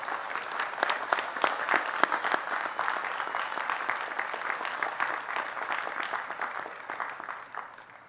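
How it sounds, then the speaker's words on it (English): Sustained audience applause at a college senior convocation, a dense crowd of clapping hands that holds steady for several seconds before beginning to taper off. "I think that's worth a round of applause."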